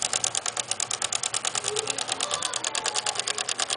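A small homemade electric engine with a flywheel runs close by, producing a rapid, even train of mechanical clicks and whirring pulses, several per second, steady throughout.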